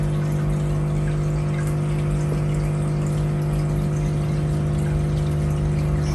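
A fish tank with Chinese algae eaters and a Dr Chihiros unit, where aerator bubbles and pumped water make a constant close, loud churning wash with a steady underlying hum and no pauses.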